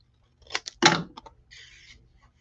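Scissors snip a few quick times while card paper is trimmed for a handmade greeting card. The close, crisp cuts come in short bursts, followed by a faint papery rustle in a quiet room.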